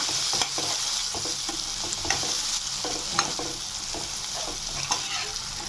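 Peas and onions sautéing in a pan for a baingan bharta, with steady sizzling and repeated spoon or spatula scrapes and stirs at close range, no talk.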